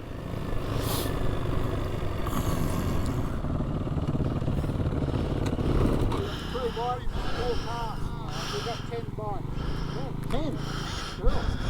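A motorbike throttles down the sand dunes of the Simpson Desert near Big Red, the engine droning steadily and then revving in rising and falling whines, with a rider speaking at times over the motor and wind.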